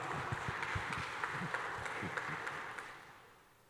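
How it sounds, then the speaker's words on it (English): Audience applause as presenters are called onto the main stage at a startup conference, a steady broadband clatter of many hands that thins and fades toward the end. "Big round of applause."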